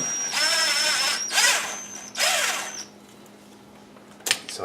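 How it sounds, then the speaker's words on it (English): A power tool works on a bolt on a GMC Acadia engine during a repair, giving two close, loud whirring bursts with a high tone, a quieter stretch, then a short sharp burst at the end. "So I loosened the bolt."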